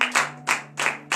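Four sharp bursts of collective clapping in a morning prayer meeting, spaced evenly in rhythm, loud and close, with a faint hum beneath.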